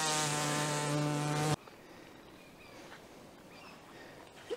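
Angry honeybees buzz loudly and close for about a second and a half, then cut off abruptly, leaving a faint outdoor background on an early spring day.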